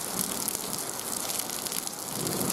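Steady, dense hiss of heavy rain pouring down on a foggy railway line near Cibatu, Java, continuous and fairly loud throughout with no voices.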